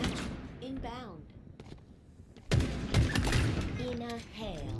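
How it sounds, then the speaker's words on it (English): Bursts of gunfire in the video game Halo Infinite, loud rapid shots starting partway through and carrying on beneath spoken game announcer callouts and a talking player. "In a hail of gunfire."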